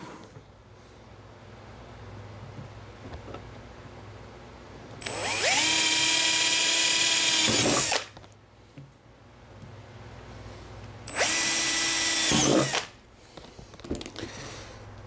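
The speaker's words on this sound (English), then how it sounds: "And all we gotta do is drill some holes." Cordless power drill boring holes for a DIY battery power station build, two loud high whining bursts of about three and two seconds, separated by quieter room noise and handling sounds.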